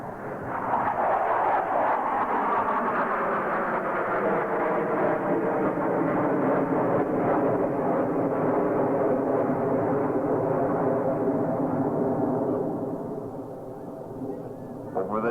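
Blue Angels jets flying a line-abreast formation loop at an air show, a loud sustained roar that holds steady for about twelve seconds and then eases and fades slightly as power comes back.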